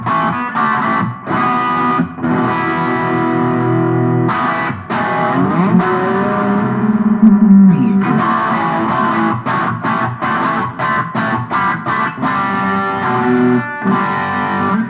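An electric guitar plays through a Boss ME-70 multi-effects unit set to a crunchy distortion, loud and close, with chopped rhythm chords and sustained ringing passages and no talk.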